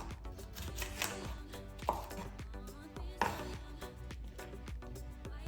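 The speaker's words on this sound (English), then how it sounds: "Follow the same steps for the green pepper." Green pepper being chopped into cubes on a cutting board, a quiet, rapid, steady run of knife taps with a couple of heavier strokes, close and without talk.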